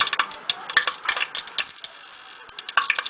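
Whole spices fry in hot ghee in a cooking pot, with a soft sizzle under frequent sharp clicks and scrapes of a spoon stirring against the pot, close and fairly quiet.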